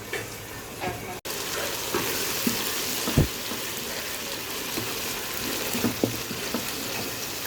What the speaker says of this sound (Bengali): আমি মাংসটা কিছুক্ষণ কষায় নিই